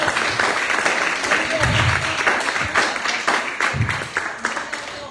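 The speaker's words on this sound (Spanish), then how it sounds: "Suéltale un aplauso al Señor." A church congregation claps together during a worship service, a dense, steady wash of applause over about five seconds with louder bursts here and there, and some voices mixed in.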